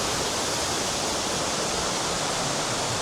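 A Swiss Alpine waterfall over lime-scale rock roars in a steady, dense rush of falling water, close and continuous with no pauses or voices.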